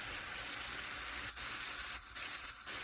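Steady, dense sizzling of chicken pad thai ingredients frying in a pan, continuous and close, with a few brief dips in the hiss.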